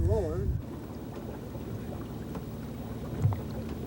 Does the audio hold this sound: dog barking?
no